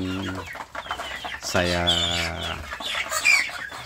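Free-range village chickens, a rooster among hens, cluck and call close by in a yard, with a drawn-out crowing-like call in the middle and a brief spoken word at the start.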